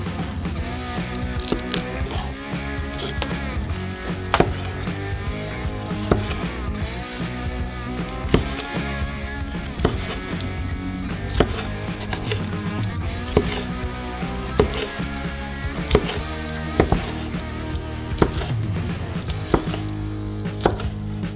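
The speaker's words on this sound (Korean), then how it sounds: "소시지도 아주 잘 됐네요. 잘라주세요." A knife chops sausage on a cutting board in a string of quick, sharp taps, some sets faster than others, heard up close over steady background music.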